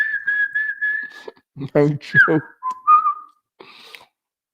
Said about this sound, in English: I want you to start whistling.